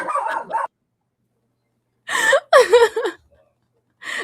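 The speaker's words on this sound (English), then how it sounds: "This is a dog friendly zone. He can bark to his delight." A pet dog barks in short bursts at home, a few separate yaps with silent gaps between them, close and fairly loud, with no talk over them.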